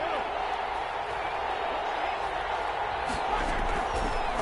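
Steady, dense roar of a football stadium crowd in a PS4 football game, rising with excitement before a big third down; continuous and broadband throughout, with faint commentary-like voices mixed underneath.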